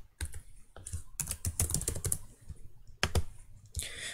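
Quick bursts of typing on a computer keyboard while renaming a sketch in CAD software, clustered key clicks close up with short pauses between runs.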